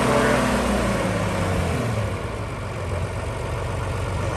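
A 1983 John Deere 2950 tractor engine runs loud and close, its low rumble rising then settling into a steady throb.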